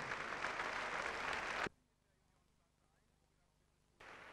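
Audience applause for the competition judges at a 1988 German championship, a dense burst of clapping for about 1.7 seconds that cuts off into near silence before resuming at the end.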